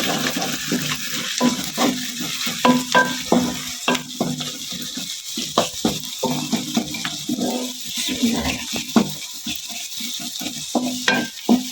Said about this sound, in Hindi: ये 1 चम्मच मैंने लहसुन का पेस्ट डाल दिया है। अब इसे ज़रा सा ब्राउन करेंगे।